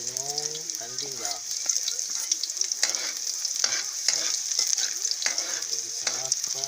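Garlic and onion sizzle and fry in a pan with steady crackling and stirring scrapes, close and fairly loud, while a person talks over the cooking at the start and again later.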